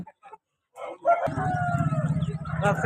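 A rooster crows at a Sunday rooster market in Vijayawada, one loud, close, drawn-out crow with some faint market noise before it.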